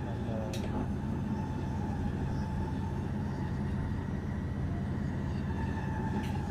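Dutch stopping train 30824 heading toward Zutphen, a steady low rumble of the carriage running along the rails, with faint squeaks and rattles over a constant drone.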